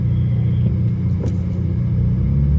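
A Ferrari SF90 Stradale at the Portimão race track rumbles steadily at close range, a low, loud engine drone that holds evenly throughout with no talk over it.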